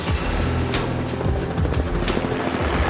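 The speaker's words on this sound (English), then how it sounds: "It's a great helicopter." A US Coast Guard Eurocopter HH-65 Dolphin helicopter flies close by, its rotor throbbing loudly and continuously with a heavy engine drone.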